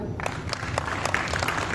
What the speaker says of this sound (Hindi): तमाम कवियों के लिए जोरदार तालियां